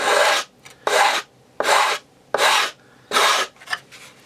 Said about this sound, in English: 80 grit sandpaper really eats at it.